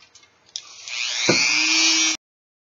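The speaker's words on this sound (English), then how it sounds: "so I am going to sand that down just a little bit. I don't want that showing through the finished product. And for that, I'm going to use my Dremel again" A Dremel rotary tool sands down a ridge on a glass plate: a short, high whine spins up, holds steady for about a second with a lower grinding layer added, then stops abruptly.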